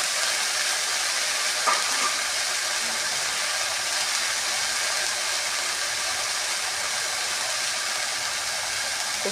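Chopped jute leaves frying in a pan give off a steady, even hiss at moderate volume, with one brief clatter near the start and no talking.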